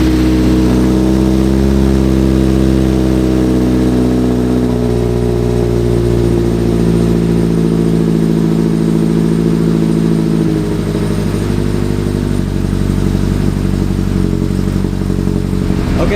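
Mazda NC Miata with an aftermarket exhaust, a deep, loud, aggressive engine note droning and revving steadily up close, with rough pulsing tones and shifting pitch.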